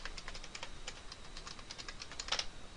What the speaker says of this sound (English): Go to File, New Task, and type in Explorer.exe.